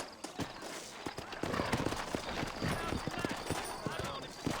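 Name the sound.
horse hooves clip-clopping while riding, from Red Dead Redemption video game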